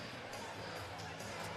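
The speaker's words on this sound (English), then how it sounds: "Crowd certainly enjoying it." The crowd at an NBL pre-season basketball game between the Illawarra Hawks and UC Riverside makes a steady arena roar of cheering and chatter, with a commentator talking over it.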